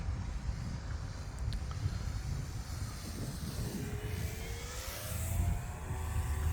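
Electrifly Edge 540T RC airplane on a 4S battery flying overhead, its electric motor whining faintly with rising and falling pitch as it passes, against steady outdoor wind noise.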